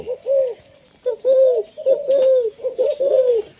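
A spotted dove, a decoy bird, coos in a short series of soft, hollow single-note calls of medium pitch, close and clear against a quiet background.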